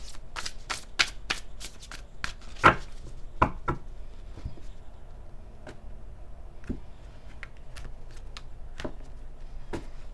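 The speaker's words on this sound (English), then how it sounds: "But the cards definitely need to be shuffled good." Close tarot card shuffling: a quick burst of crisp riffles and slaps, then scattered softer taps and flicks in an otherwise quiet room.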